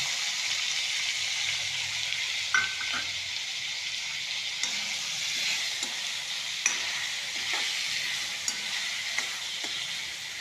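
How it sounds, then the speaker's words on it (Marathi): Chopped tomatoes frying in a pan with browned onions, a constant bright sizzle close by, broken by occasional spoon clinks and scrapes against the pan, with no voices. "त्यानंतर टोमॅटो चिरून घेतलेले तळून घ्यायचे ते पण"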